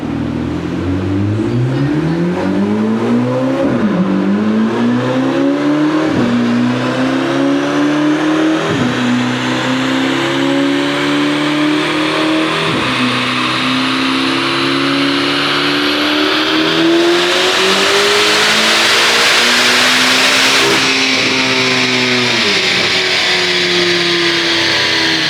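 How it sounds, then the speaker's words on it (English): A Chevrolet Corvette C8 ZR1 on a dyno roars through repeated loud pulls, its engine pitch climbing through the gears with brief drops at each shift before rising to a harsh peak and easing off. "putting the ZR1 on the dyno to see what it actually makes horsepower-wise"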